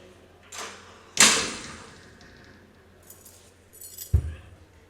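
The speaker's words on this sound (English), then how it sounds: "Why I can't lock this door?" A door is rattled and handled while someone tries to lock it, with a sharp clunk, metallic clinks and a low thud near the end, close by and with no talking.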